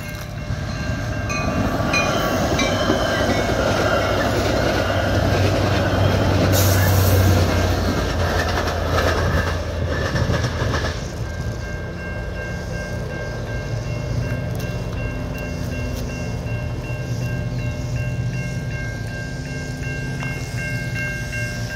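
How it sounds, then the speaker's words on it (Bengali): A double-decker diesel train bound for Chicago Union Station rolls loud and close through a road rail crossing, its rumbling wheels and clatter peaking early, then easing into a steadier passing roar with a faint tonal hum. "ওই যে ট্রেন আসছে,"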